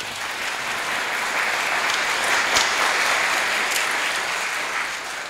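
A congregation gives strong applause for a hafiz at a Quran memorization certificate program in North Holland, a continuous even roar of many hands clapping, swelling slightly in the middle and tapering at the end.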